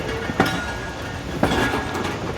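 Awam Express passenger train rolling out of the Lahore railway yard, a steady broadband rumble of wheels on track with two sharp clanks at rail joints, heard from on board with no talking.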